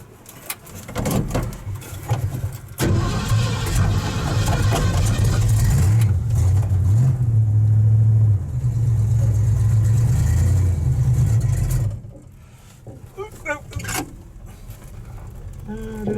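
A Ford Ranchero engine runs loud and close with its exhaust right underneath, a steady low rumble settling toward idle for about nine seconds before cutting back, with faint scattered noise afterward.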